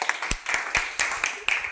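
A group of people claps for the winner of a Gujarati party game challenge, with bursts of applause rising and falling in uneven waves of several quick claps, close and moderately loud.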